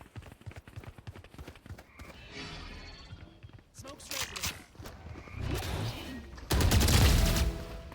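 Gunfire from a shooter video game while the player aims for headshots, with rapid rattling bursts, scattered single shots and a loud volley near the end under continuous talking.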